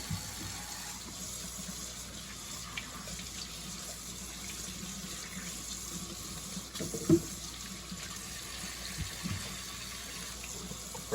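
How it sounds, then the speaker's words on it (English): Tap water runs steadily over a deer shoulder roast in a sink, a soft continuous splashing flow, fairly quiet and close, with a few faint knocks of handling partway through. "I'm going to rinse this off really well."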